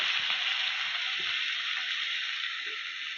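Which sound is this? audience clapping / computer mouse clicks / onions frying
onions frying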